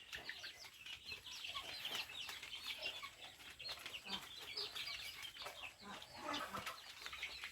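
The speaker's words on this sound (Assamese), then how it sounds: "এইখিনি কুকুৰা চৰাই আমাৰ চেল কৰি থকা হৈছে।" Chickens on a poultry farm cluck and chatter in a dense, continuous chorus, faint and somewhat distant, with occasional wing flaps among the flock.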